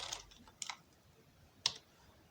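A computer keyboard gives three sparse, quiet bursts of key clicks with soft pauses between them against a faint background.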